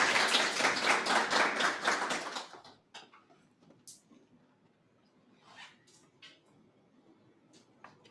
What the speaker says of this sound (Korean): 그러면 타이반의 대표님 슈이밍을 박수와 함께 정하겠습니다.